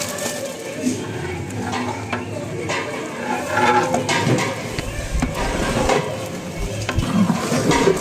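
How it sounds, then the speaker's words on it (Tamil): Meat is stirred in a large biryani pot, with continuous rough scraping and clattering close up over a bed of sizzling. Faint background voices sit beneath it. "கறியும் போட்டு அதோட சேர்த்து கிண்டிக்கிட்டு இருக்கும்போது"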